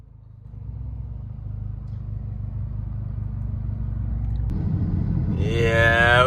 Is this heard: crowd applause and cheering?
no